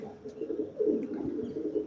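Pigeons coo softly in a short low burble of repeated rolling calls, fairly faint and close, with no voices.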